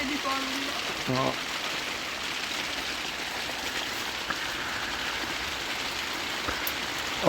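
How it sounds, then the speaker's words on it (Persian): Heavy rain falls steadily in cold weather, a dense continuous patter and hiss at moderate loudness, with a voice briefly heard near the start. "خیلی بارون"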